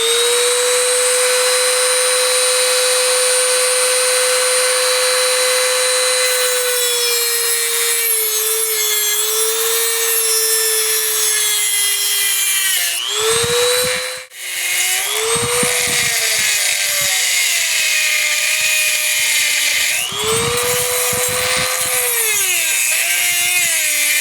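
A grinder whines at high pitch as it cuts through a metal plate on a trimmer carburetor, holding a steady tone, then dipping and rising repeatedly under load with scraping, rasping bursts, close and loud.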